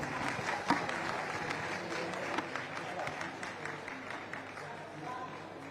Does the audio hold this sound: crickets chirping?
no